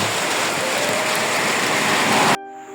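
Steady rain falls on a village in Kuala Pueh Hulu as a dense, even hiss for over two seconds, then cuts off abruptly, leaving a faint hum.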